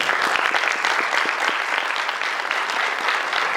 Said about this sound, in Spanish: Un fuerte aplauso para la doctora.